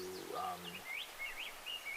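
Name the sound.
birds singing outdoors near a creek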